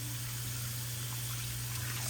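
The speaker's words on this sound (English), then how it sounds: "So I'm gonna rinse it off until my water come out clear." Tap water runs steadily over raw chicken drumsticks being rinsed in a kitchen, a soft continuous splashing flow with a low hum underneath.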